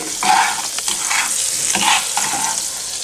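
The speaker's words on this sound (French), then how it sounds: "Voilà, le sucre, on va bien venir le mélanger" Sugar stirred into melted butter in a pan for an apple crumble makes close, loud scraping and swishing in repeated strokes over a soft sizzle, with no voices.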